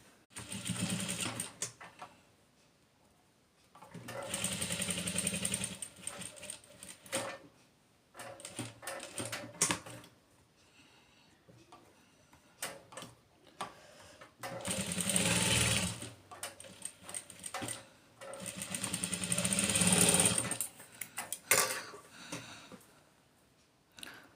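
A sewing machine stitches fabric around the edge of a dori cap in several loud, close bursts of fast, even needle rattling, separated by short quiet pauses.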